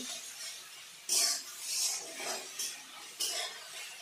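Spatula scraping and clinking in a pan while spice paste is fried and stirred for Bengali doi begun, a few sharp close scrapes against a faint sizzle.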